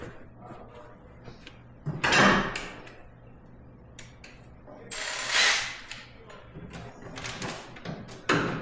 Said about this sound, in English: Let's zip these doors off here quick.